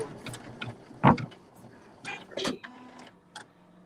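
A Poolin EOC06 single-needle embroidery machine sewing a satin stitch on a patch, giving irregular close mechanical clicks and short whirring bursts with quieter gaps between.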